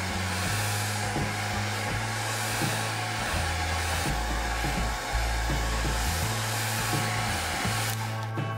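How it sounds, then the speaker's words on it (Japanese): A hair dryer blows continuously to warm masking tape so it peels off a watercolor pencil Halloween card, a loud steady whir whose pitch shifts now and then as it is moved, alone throughout. "マスキングテープを剥がすときはドライヤーで少し温めると剥がしやすくなります"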